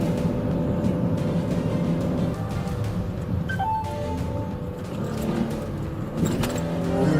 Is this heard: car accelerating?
yes